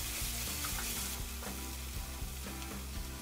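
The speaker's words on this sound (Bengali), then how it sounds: "কাঁচা গোটা জিরা 1/2 চা চামচ দিয়ে আবারও সবগুলো ভেজে নিব।" Ground chilli, salt, turmeric and whole cumin seeds sizzle steadily in hot oil in a pan for a Bengali shol fish curry, a dense close frying hiss with occasional stirring scrapes and no talk.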